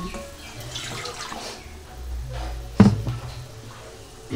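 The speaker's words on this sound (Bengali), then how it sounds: "এবার আমি পরিমাণ মতন জলও দিয়ে দিলাম" Water is poured into a pan of soybean and potato curry, giving a brief splash over a low background rumble and faint kitchen clatter.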